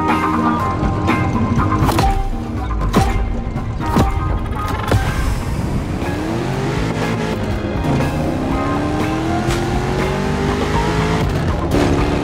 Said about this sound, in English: your ride will be the eternal 1969 Mustang Boss